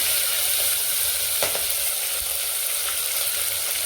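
Whole spices and garlic paste sizzle loudly in hot oil in a pan, a continuous bright hiss with a couple of soft stirring knocks and no talking.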